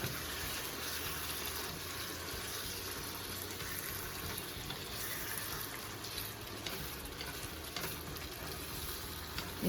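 Jamaican salt fish rundown simmering in coconut in a pan, a steady bubbling sizzle with soft stirring scrapes mixed in, close and continuous for several seconds.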